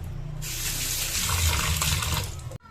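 Tap water runs steadily over prawns and bhola fish being washed in a kitchen sink, a continuous close splashing hiss that cuts off abruptly near the end.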